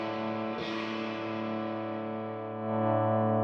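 Guitar through a Universal Audio Ox tube amp, heard only from the room mic: a single sustained, distorted chord ringing out, roomy and somewhat murky, with a slight swell near the end.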